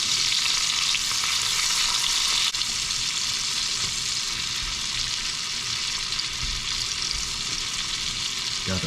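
Onions and pepper frying in a pan give a loud, continuous close sizzle with a faint rustle of stirring, and no talking.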